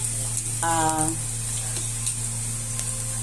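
Chopped onion drops into a pan of hot oil and ginger, sizzling and crackling steadily up close, with a short burst of noise near the start and a low hum underneath.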